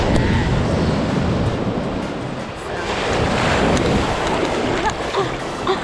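Ocean surf at a beach washes and rumbles continuously up close, mixed with heavy wind buffeting the microphone, swelling and easing over several seconds.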